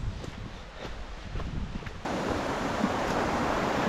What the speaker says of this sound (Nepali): घट्टे खोला आइपुग्यो